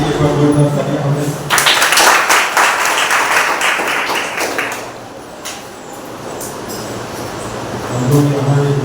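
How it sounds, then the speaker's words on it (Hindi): A church congregation at a Sunday service claps for several seconds, a dense burst of applause that fades out, with some music or voice sounding underneath. "परमेश्वर के लिए जोरदार तालियां हमें।"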